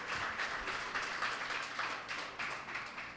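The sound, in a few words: congregation clapping in a church worship service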